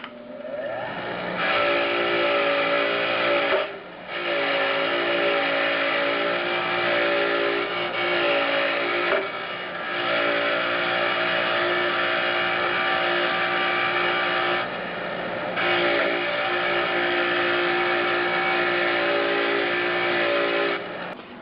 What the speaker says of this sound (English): The tension bolts each get a cleaning under the wire wheel.